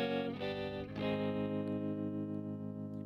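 Rhythm guitar chords with a distorted, effected tone, sent to a reverb in a Pro Tools mix, ring out and sustain alone with a washy reverberant tail; brief strummed changes appear early before the held chord decays.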